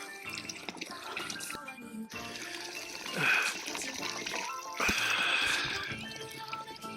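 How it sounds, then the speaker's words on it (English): Water bottle being filled from a mountain stream near Munsiyari in Uttarakhand: steady rushing and gurgling water with swelling bubbly pours, close and moderately loud. "I'm going to fill my water bottle directly from nature."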